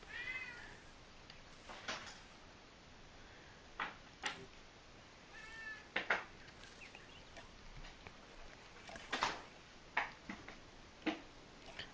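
A cat meows repeatedly indoors in a kitchen, a series of short, fairly clear calls spaced every second or two over a quiet room background, with no talking.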